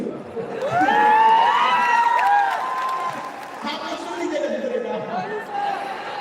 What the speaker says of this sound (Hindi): बाहर बहुत ही ज्यादा भीड़ हो गया